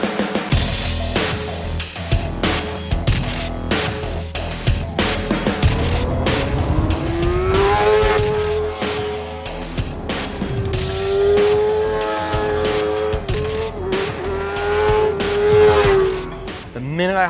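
A 2013 Kawasaki ZX-6R sportbike with a 636 cc inline-four screams around a race track, its engine note rising and falling through gear changes in sustained high-revving runs, loud and close.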